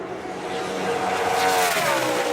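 A NASCAR Sprint Cup car starting its qualifying lap at Indianapolis, a distant engine growl rising as it accelerates and draws nearer, harmonics sweeping upward, loud and alone.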